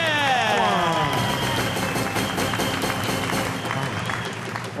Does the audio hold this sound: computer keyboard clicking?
no